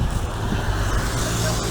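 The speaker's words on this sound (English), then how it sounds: "A few cars on the go." Cars drive through a downtown street near a harbor, a steady broadband roadway rumble with wind-like hiss, moderately loud and continuous with no distinct passes.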